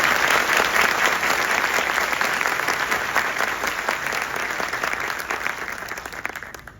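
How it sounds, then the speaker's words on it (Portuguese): Sustained applause from a ceremony audience honoring a colleague at a citizenship award event in Goiânia, dense and steady clapping that gradually tapers over several seconds with no talk over it. "peço uma salva de palmas a esse colega Mário Macieira."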